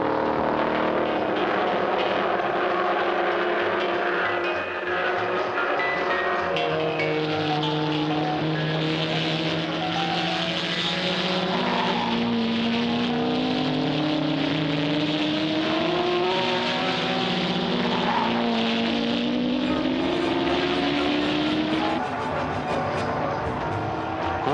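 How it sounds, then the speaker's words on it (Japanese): Vintage racing cars, a Nissan R381 and a Lola P70, roar past on a circuit, engines droning loudly and continuously with rising and falling pitch as they accelerate and shift, heard from trackside with no talk over them. "キャンナムシリーズの王者ローラ P70 は周回遅れながら R381 を抜こうと追い上げます"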